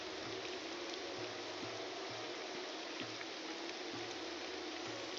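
Steady rainfall in modded Morrowind, a soft, even watery hiss with faint drips and a low intermittent throb beneath, playing alone at low volume.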